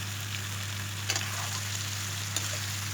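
Chicken meat sizzles and fries in oil with softened onions for a local chicken curry, giving a steady close crackle with a couple of brief sharper pops and scrapes and no talking.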